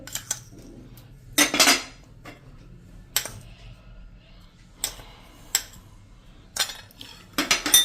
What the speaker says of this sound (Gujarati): અને આને એકદમ સરસ આપણે મિક્સ કરી લેશું.